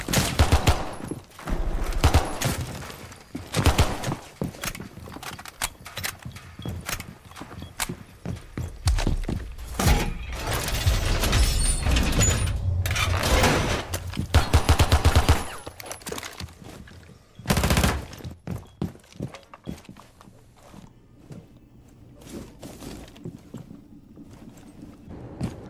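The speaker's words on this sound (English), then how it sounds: "Shots come out from BF1U on the Tachanka, will get the first pick." Dense, rapid gunfire from a competitive Rainbow Six Siege esports match, including a Tachanka's mounted weapon, rattles in loud bursts and sustained volleys for about twenty-five seconds, with footstep-like clatter between the louder stretches.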